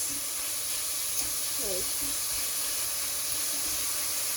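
Pork mince sizzling in a pan, a dense continuous hiss and crackle of frying held at an even level throughout, with a brief faint voice-like sound partway in.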